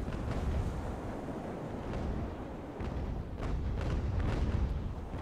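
Ship cannon fire during an Age of Sail naval battle in Ultimate Admiral, with big guns booming in a heavy, rumbling barrage and several sharper blasts cutting through the continuous low roar.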